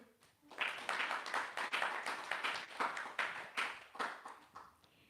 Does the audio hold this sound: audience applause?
yes